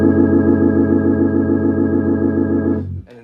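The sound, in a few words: organ with V3 vibrato setting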